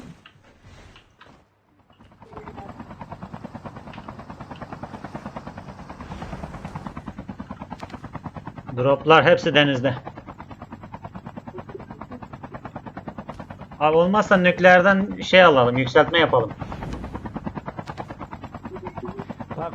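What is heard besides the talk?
helicopter in the video game Call of Duty Mobile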